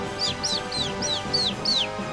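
Video game bird call from Golden Sun: Dark Dawn, six bright descending chirps repeating about every quarter second, clear and close over a soft humming background.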